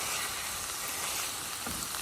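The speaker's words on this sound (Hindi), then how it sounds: "यहाँ पर जनाब भुन रहा है कीमा।" Minced meat (keema) frying in a pan gives a continuous close sizzle at an even level throughout, with no voices.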